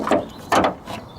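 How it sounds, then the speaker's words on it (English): The bonnet of a Ford Fiesta is popped open with a brief run of mechanical clunks and ratcheting clicks from the release and latch, close and moderately loud, over little more than a second. "the first thing that you're going to do is pop the bonnet"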